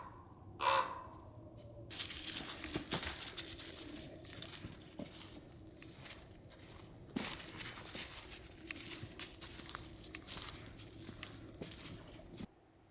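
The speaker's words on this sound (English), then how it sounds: "a raven has landed right above me here" A raven perched close overhead gives a single loud croak outdoors, followed by faint rustling, scattered taps and soft ambient noise on a quiet walk.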